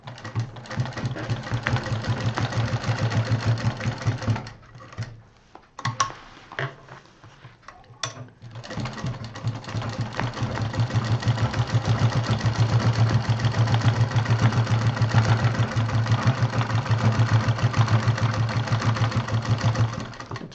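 A sewing machine runs steadily, stitching fabric for a DIY clutch, its motor hum loud and continuous apart from a short pause near the middle before it resumes running to the end.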